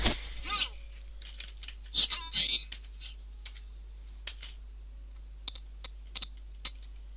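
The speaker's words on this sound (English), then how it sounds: "Typing in random numbers in hope." Random numbers typed on a computer keyboard during a Minecraft session: scattered, sparse key clicks, near and fairly quiet, with a few brief bursts of talk and voice sounds mixed in between them.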